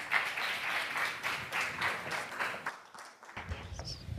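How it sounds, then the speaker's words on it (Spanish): Audience applause for a panel at a conference on urban dynamics and infrastructure, a dense burst of clapping that stops sharply, followed by quiet movement and a few stray sounds. "Un aplauso para todos ellos."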